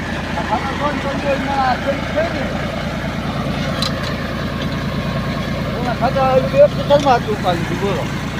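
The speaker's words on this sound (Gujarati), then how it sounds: "હું હાલે ટ્રેક્ટર હા એમનું ટ્રેક્ટર હાલે" Steady low tractor engine rumble with a throbbing, chugging rhythm throughout during wheat sowing, with a few brief louder bursts near the end.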